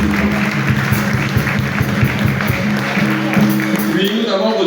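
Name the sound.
church congregation applauding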